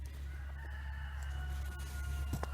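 A backyard hen clucks and crows close by, distinct fowl calls over a steady low hum, with no talk.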